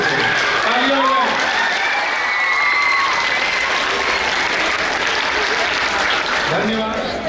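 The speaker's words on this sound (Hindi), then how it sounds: "तालियां बजाएं" An audience at an annual school prize distribution breaks into loud, sustained applause that stays thick and even throughout, with faint voices mixed into the crowd noise.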